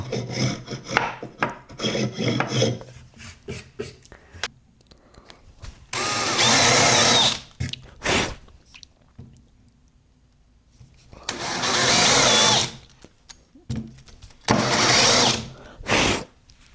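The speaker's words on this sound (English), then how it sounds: "we have completed the drilling" A drill bores into wood in bursts of harsh rasping, several long grinding passes separated by pauses and lighter scraping, close and loud.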